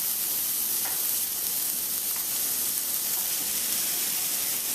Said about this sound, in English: Give that a quick stir because I want that garlic to touch the bottom of the pan.